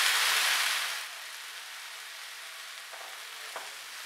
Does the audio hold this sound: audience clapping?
no